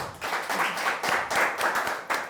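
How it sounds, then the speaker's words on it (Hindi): Live audience at a comedy show clapping for Arpita: a brief burst of hand claps with a loose, uneven rhythm, moderately loud and close, without talk over it. "अर्पिता के लिए एक बार जोरदार ताली हो जाए"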